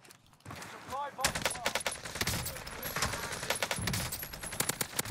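Bursts of automatic rifle fire from an AK-47 in the video game Warzone on Rebirth Island, sharp, loud and closely spaced shots in a steady stream, with brief voices underneath.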